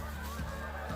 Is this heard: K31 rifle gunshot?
no